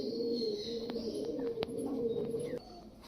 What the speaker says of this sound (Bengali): নর্মালি ফ্রেশ রয়েছে ফিট অ্যান্ড ফাইন পায়রা